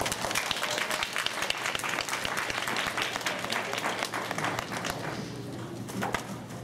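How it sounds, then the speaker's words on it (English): An audience at a young authors conference claps for a visiting author, brisk sharp applause that builds and then thins toward the end. "So now give a round of applause to Ms. Dionne Champion."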